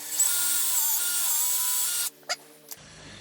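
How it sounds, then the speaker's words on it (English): A power drill whines steadily, boring a hole in concrete for a Tapcon screw while building a modular fence under a barn overhang, then stops abruptly with a few short bursts afterward. "let's go ahead and get the other hole drilled"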